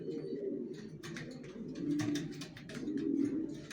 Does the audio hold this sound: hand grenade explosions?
no